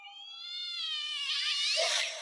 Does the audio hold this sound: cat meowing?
yes